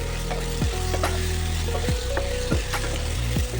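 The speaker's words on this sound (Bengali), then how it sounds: "এবার আলুটাও কিন্তু পটলের সাথে ভেজে দেবো" Diced potatoes and pointed gourd fry in hot oil, a loud continuous sizzle close up, broken by several scraping stirs of a spatula against the pan.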